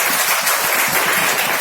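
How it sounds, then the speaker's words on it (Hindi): A congregation at a Hindi-language church worship service applauds, producing a steady, dense wash of many hands clapping together at close range, continuous and even throughout, with no voices standing out. "जो लोग सीख रहे हैं वो प्रभु को ताली बजाएंगे"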